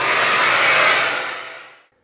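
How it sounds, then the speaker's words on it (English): An upright vacuum fitted with a hose extension and small brush cleans around a clothes dryer, giving a loud, steady broadband whoosh that fades out near the end, with no voices. "I'm just using my hose extension here with the little brush on the outside here. And I'm just going to vacuum this off"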